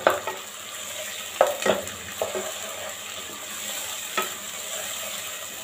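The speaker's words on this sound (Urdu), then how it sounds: "اب ہم اس میں 2 درمیانے سائز کے جو ہم نے ٹماٹر کٹنگ کیے تھے، 5 ہری مرچیں یہ ڈالیں گے" Chopped tomatoes and green chilies fry and get stirred in a pan for a green bean and potato curry, a steady soft sizzle with a few louder scraping stir strokes near the start and one later, no talking.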